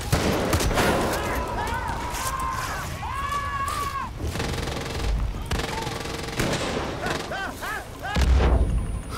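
Dense gunfire and explosions from rockets and mortars rage through a chaotic Far Cry 5 battle, with bursts of shots, booms and whistling projectiles layered close and loud, while voices cry out amid the chaos.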